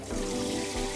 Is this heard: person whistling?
no